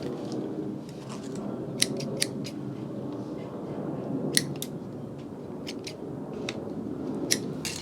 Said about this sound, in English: the excess line is cut off